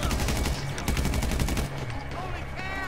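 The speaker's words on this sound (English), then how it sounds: "I'm probably shooting at nothing right now." Rapid automatic gunfire in Grand Theft Auto V, a fast rhythmic string of loud close shots for over a second, then scattered fainter shots and background game noise.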